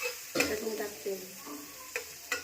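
Chutney of garlic, salt, coriander and peanuts sizzles quietly in a pan, broken by a few sharp scraping stirs at irregular intervals.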